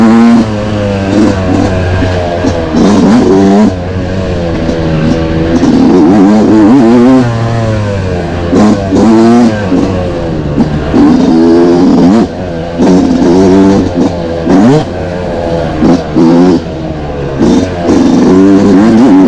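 A Yamaha YZ two-stroke dirt bike, a small-bore YZ125 or 1999 YZ250, revs hard while being ridden, its loud, close engine rising and falling in repeated throttle bursts and gear changes with no talk over it.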